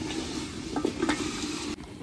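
Red rooster chicken braising in a pot, stirred with a utensil: steady close sizzle with a few scraping stirs, then a brief drop near the end.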